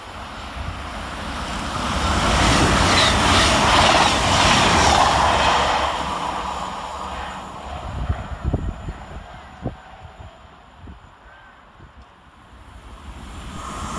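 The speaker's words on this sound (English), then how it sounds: "Next up to bring the noise for cross country is 221125, working 1 Sierra 39 from Plymouth to Edinburgh Waverley" A CrossCountry Class 221 Voyager diesel unit, 221125, passes through Longniddry railway station, a broad roaring rumble swelling over the first several seconds, then fading into wind with a few sharp clanks as it clears the platform.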